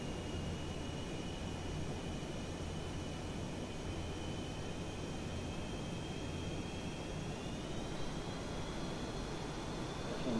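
A video game Hornet aircraft engine, a steady, faint whooshing drone with a thin whine that rises slightly near the end, alone without talk.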